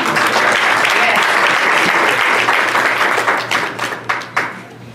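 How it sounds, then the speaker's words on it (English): Applause and hand clapping from a congregation at a Martin Luther King Jr. unity breakfast, a dense steady wash of claps that thins toward the end into scattered individual claps, with faint voices mixed in. "Give God a hand clap of praise."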